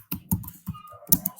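Typing on a computer keyboard: a handful of crisp, close keystrokes in an uneven rhythm, with brief pauses between the taps.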